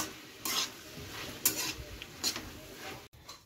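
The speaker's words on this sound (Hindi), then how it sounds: "मसाला डाल दिए हैं दोस्तों, टमाटर वमाटर डाल दिए हैं, देखते हैं दोस्तों कितना पका है" Masala and tomatoes fry in a pan while a spoon stirs them: a soft sizzle underneath three or four brisk scraping strokes of the utensil against the pan, close and fairly quiet.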